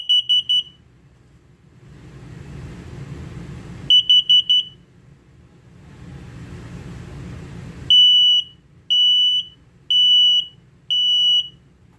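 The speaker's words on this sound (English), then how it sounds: "So as you hear, there were 2 different beeps. One is for LP, one is for carbon monoxide." Test beeps from the LP gas and carbon monoxide detector in a 2022 Forest River No Boundaries 20.4 RV: a quick triple chirp, a repeat, then four longer evenly spaced beeps, loud and close, with a soft hiss between bursts.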